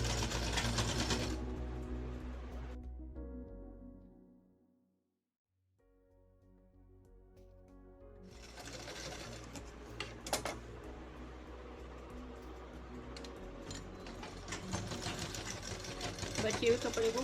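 A sewing machine stitches blouse fabric in steady runs, loud and close, stopping briefly for a silent pause in the middle before whirring again with a few clicks.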